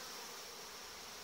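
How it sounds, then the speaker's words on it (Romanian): Honey bees cleaning and polishing the hive entrance and walls make a dense, continuous buzzing hum, faint but steady, with no other sounds. "o armată de albine curăță în continuu, lustruiesc acea zonă pe care se află"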